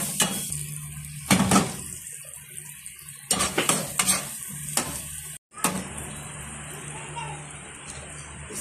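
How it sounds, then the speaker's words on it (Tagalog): Garlic sizzles in melted butter in a pan, with a steady frying hiss broken by sharp clanks of a utensil against the pan, loud and close. "Igigisa natin siya sa butter"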